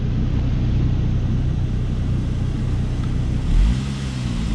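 A Saab 9-3 engine idling as it warms toward operating temperature, a steady low rumble with one brief rev swelling near the end, close and fairly loud.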